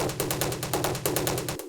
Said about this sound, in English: I noticed like the percussion in there that sounds like this